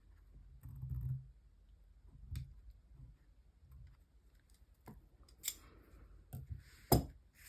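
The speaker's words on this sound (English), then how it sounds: "I'm going to go ahead and trim down this ribbon edge here" Scissors snip a ribbon edge while a Christmas card is finished. There are a few soft, scattered cuts and small rustles, close by and quiet, with no talking.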